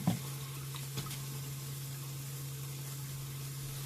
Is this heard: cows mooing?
no